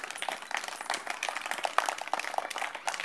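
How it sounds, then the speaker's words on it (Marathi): Students clap for the winners of a running game, a steady patter of many hands close by, dense and lively without pause. "टाळ्या वाजवा त्यांना एकदा."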